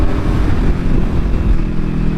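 A Kawasaki Ninja 400 motorcycle rides along at speed, its engine a loud, continuous low rumble mixed with heavy wind rush, close up.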